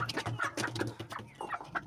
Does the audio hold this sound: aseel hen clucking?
yes